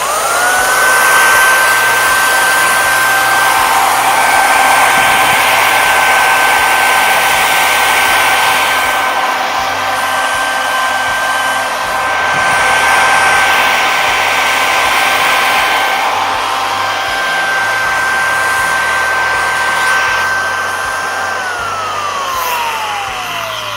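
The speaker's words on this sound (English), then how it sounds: "Here's an initial run after rebuilding the front bearing." A Kirby Dual Sanitronic 80 vacuum cleaner, front bearing freshly rebuilt and rear bearing still worn, runs with a steady loud motor whine and broadband rush for about twenty seconds, then its pitch begins to drop as it spins down near the end.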